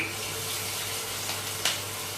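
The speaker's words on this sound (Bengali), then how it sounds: "এই মাছের ডিমের পিসগুলো আমি এই ব্যাটারের মধ্যে দিয়ে এই প্যানের উপরে দিয়ে" Battered pieces of fish roe fry in mustard oil in a pan, a steady soft hiss with one brief sharper crackle near the end.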